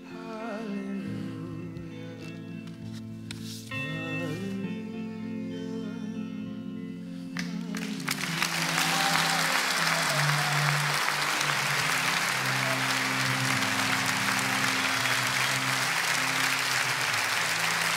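A burst of audience applause breaks in after music winds down at a live comedy show, swelling into loud, sustained clapping that fills the hall.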